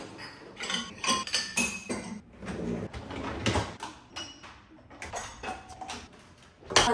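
Dishes and cutlery clink and knock repeatedly as a home dishwasher is quickly unloaded, with irregular close clatters of glass and ceramic, some louder bursts, and no talking.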